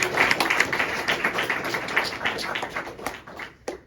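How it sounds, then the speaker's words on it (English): An audience at a music lecture-demonstration applauds, a dense run of overlapping claps that holds steady and thins out toward the end. "Another round of applause, please"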